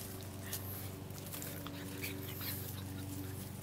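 French Bulldog puppies whimper and pant close by outdoors, soft repeated whines and quick breaths over a faint steady background hum.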